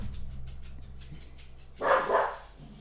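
A dog barks a few times somewhere off in a room, with a short loud burst of barking rising briefly over a steady low hum of background noise.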